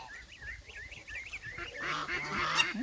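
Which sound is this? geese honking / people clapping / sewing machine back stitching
geese honking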